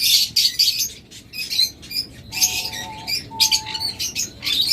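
Pet birds sold in pairs, one pair with eggs, chirp and tweet busily and continuously at close range, with overlapping high calls and a few short whistled notes.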